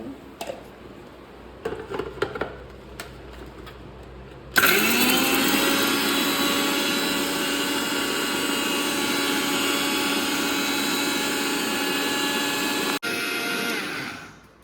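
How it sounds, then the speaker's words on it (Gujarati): A mixer grinder pulverizes fried ladoo pieces for festival sweets: after a few seconds of faint handling knocks, the motor kicks in abruptly with a loud, steady whine and rattle, runs for about eight seconds, then cuts back and stops. "મિક્સરમાં દળી લેવાનું છે."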